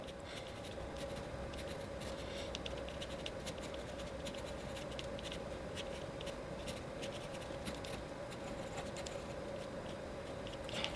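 A pencil lightly sketching a tree trunk on watercolor paper, making a steady faint scratching for about eleven seconds over a constant low hum, with no speech.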